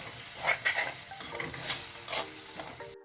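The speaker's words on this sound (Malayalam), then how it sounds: "ഇനി ഇതും കൂടി ഇട്ട് നന്നായിട്ട് ഇതൊന്ന് വഴറ്റിയെടുക്കാം." Tomato sautéing in a pan for chatti chicken, with soft sizzling and a few sharp stirring clinks and scrapes, fairly quiet and close, ending abruptly.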